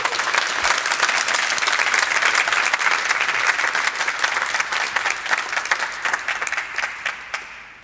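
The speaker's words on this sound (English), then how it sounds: "maybe we can get an extra applause for the whole group of the 8 teams" An audience at a pitching contest during Future Week 2021 applauds for the pitching teams, loud and sustained, then gradually fading into scattered claps at the end.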